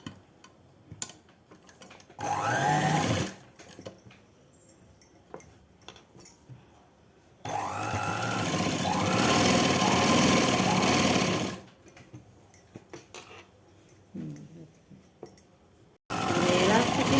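Sewing machine stitching a night dress in a home tailoring setting, running in several bursts of a few seconds each with quiet pauses between, close and fairly loud, a voice speaking in the gaps.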